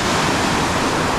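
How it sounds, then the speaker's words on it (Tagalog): Strong ocean waves surge and crash along the Culebra Island shore in Pangasinan, a loud, continuous broadband roar of surf mixed with wind, with no voices. "Lakas ng alon oh."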